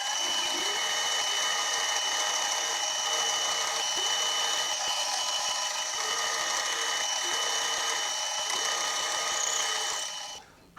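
Steady high-pitched whine of a drill boring into a steel collar for a Quorn Mk3 tool grinder, running continuously at an even pitch for about ten seconds before spinning down at the end, with no talking.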